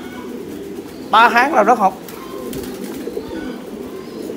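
Pigeons at a pigeon breeding farm give a short burst of loud, close, throaty cooing, with someone talking over low barn ambience before and after.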